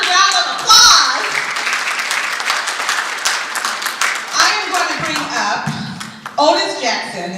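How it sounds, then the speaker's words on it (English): Audience applause at a black history tribute event, a sustained wash of many hands clapping for several seconds, loud and fairly close, easing off toward the end. "Please give yourselves another round of applause."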